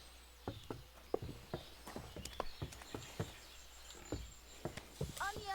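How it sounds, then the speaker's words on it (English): Horse hooves clip-clopping at a walking pace in Kingdom Come: Deliverance II, a steady series of close taps over a busy market background with a faint bird chirp near the end. "What a beautiful horse."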